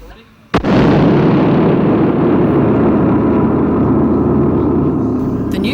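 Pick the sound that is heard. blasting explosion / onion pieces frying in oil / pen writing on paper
blasting explosion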